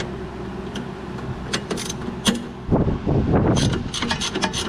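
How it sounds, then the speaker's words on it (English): A 17 mm wrench works loose a bolt on an Acura TL, giving close metallic clicks and ratcheting taps followed by a busier stretch of rubbing, scraping mechanical noise, with no talking. "Where's my 17 millimeter wrench? Wrench on the back side. Once it's loose, spin it out of there"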